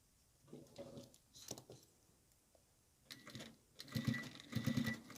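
A home sewing machine stitches fabric for a kitchen oven mitt in short, quiet bursts of rapid mechanical whirring, with pauses between runs and the last bursts coming faster and louder.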